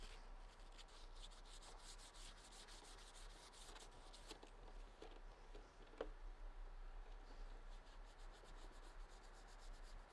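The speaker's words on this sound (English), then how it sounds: "So sand it." Stormtrooper armor calf piece, a plastic part for an 850 Armor Works R1TK kit, being sanded with steady rasping strokes for about ten seconds, quiet and close, with no talking.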